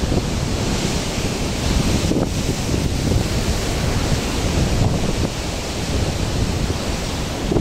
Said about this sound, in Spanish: Esperar que viene ahí una ola grande.